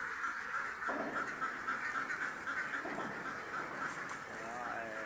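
Ducks quack and honk repeatedly, loud and nearby, in a busy outdoor flock.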